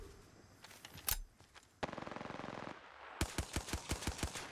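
Gunfire in the video game Apex Legends: single shots, a rapid automatic burst, then a steady string of evenly spaced heavy shots, loud and close.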